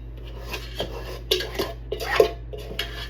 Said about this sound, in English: I'm doing the dishes, so it ain't gonna matter.